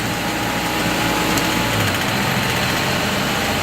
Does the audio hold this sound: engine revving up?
yes